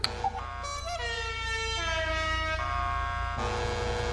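A series of car horn blasts, presumably from an olive-green matte car, sounding as sustained tonal honks that step through different pitches like a musical or novelty horn, loud and close with no talking.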